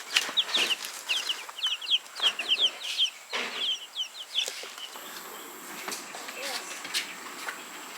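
Young chickens in a brooder peep in rapid high chirps, many overlapping near by, while a person talks over them with brief pauses.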